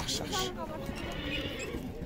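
A horse at a busy horse market in Sokuluk, Chuy, gives a brief whinny near the start, mid-distance, over continuous crowd chatter and background noise.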